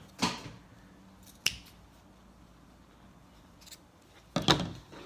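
Scissors cut a T-shirt into three strips, with three sharp, close snips spread over a few seconds and near quiet in between.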